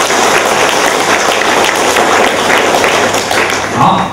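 Dense, sustained applause from an audience at a Buddhist sutra lecture, loud and steady throughout with a brief swell near the end.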